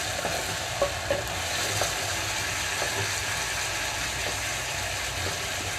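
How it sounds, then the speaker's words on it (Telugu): Onions and ginger-garlic paste fry in a pan over a medium flame for a chicken curry, with a soft continuous sizzle and a few light scrapes of stirring close by, and no talking. "ఇక్కడ మీడియం ఫ్లేమ్లో ఉంచి అల్లం వెల్లుల్లి పేస్ట్ కూడా చక్కగా వేగిపోవాలి"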